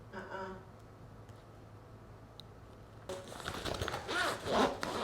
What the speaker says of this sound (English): I put my wallet in there and I closed this zipper pull